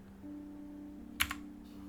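Two quick keystrokes on a computer keyboard, entering digits of a friend code, come faintly over a steady low electrical hum, with quiet stretches before and after.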